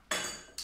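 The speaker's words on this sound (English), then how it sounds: "I will use the big ice cubes for my glass because it's summer and we need a lot of ice." Two large ice cubes drop into a glass for a pink rosé punch, each a sharp bright clink, the first ringing out briefly before the second lands, close and alone.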